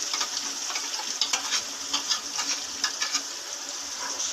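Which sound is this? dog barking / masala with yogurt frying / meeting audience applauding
masala with yogurt frying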